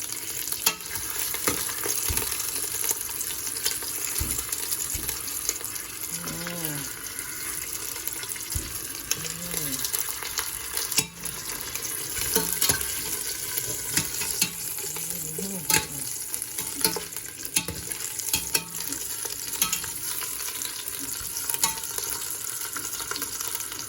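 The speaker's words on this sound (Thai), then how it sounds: "ทอดให้หนังมันตึงนิดนึง หนังตึงนะคะ จะได้แบบไม่เละ" Pork leg frying in a pan to tighten the skin, a steady close sizzle and spatter running throughout with occasional stirring and clinks, no talking.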